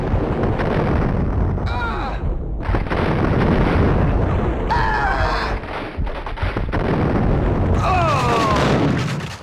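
Gunfire from the PlayStation 2 game Max Payne, dense loud bursts of shots and booms running almost continuously alongside game effects, with brief sweeping whooshes in between.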